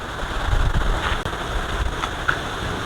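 Strong wind rushing through banana plantation leaves, a steady rough rustling roar with gusty low rumble, close and continuous without talk.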